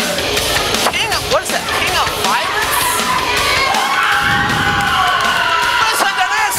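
A loud crowd at a wrestling battle royal event cheers, shouts and whoops continuously throughout, with high excited yells rising over the dense roar.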